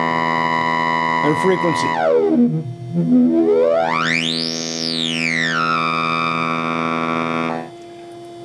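Teensy breadboard synthesizer running through a resonant filter with slope turned all the way up, a steady harmonic-rich tone whose resonant peak sweeps down, then up high and back, loud and buzzy, with brief talk early on.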